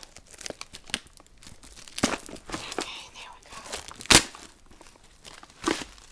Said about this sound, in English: I'll use my scissors to just undo this wrap.